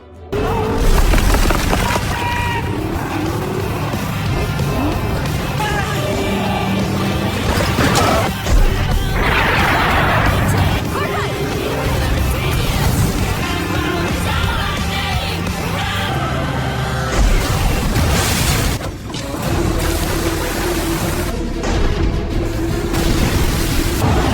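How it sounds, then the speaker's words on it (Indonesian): Loud, chaotic action: a tank fires its cannon at a church, with heavy booms, splintering wood and crashing debris, with bursts of impact noise throughout. "Tank langsung menembakkan meriam ke arah gereja"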